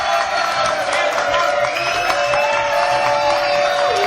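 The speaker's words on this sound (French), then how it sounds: "Applaudissements pour Sandrine" Studio audience of a French TV show applauds and cheers for a host, a constant wash of clapping with faint whoops and crowd noise throughout.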